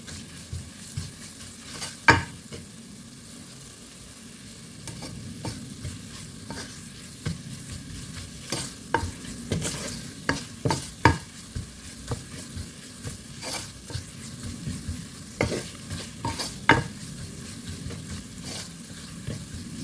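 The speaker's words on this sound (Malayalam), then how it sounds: "മുളക് പൊടി പാകത്തിന് മൂത്ത് വന്നിട്ടുണ്ട്." Chili powder roasts in a pan for a Kerala-style sardine fish curry, a low steady sizzle punctuated by repeated scraping strokes of a spoon stirring, close and unaccompanied by speech.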